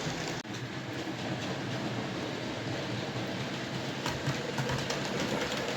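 A model train hauls a string of heavy kit-built wagons loaded with coal around a layout. The steady rolling rumble is close and continuous, with a rhythmic clickety-clack from the wheels over the track joints.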